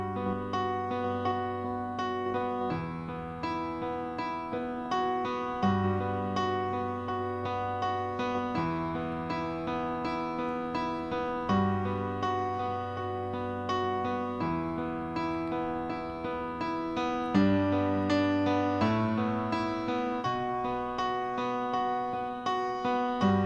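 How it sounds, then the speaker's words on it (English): Piano recorded at Rack Studios playing a steady sequence of sustained chords that change every few seconds, with rich, ringing tones, moderately quiet and alone with no voices. "And the piano sounds like this."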